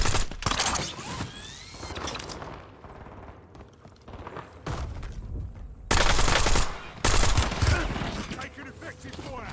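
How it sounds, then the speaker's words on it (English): Bursts of gunfire in a Warzone battle royale match come in several loud clusters with quieter gaps between them, with game sounds and voices mixed underneath. "Taking effective fire."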